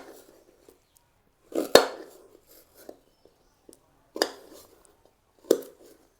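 A small piece of ginger is cut with a knife on a board during home preparation of a herbal paste, giving a few sharp, scattered knocks with quiet gaps between them.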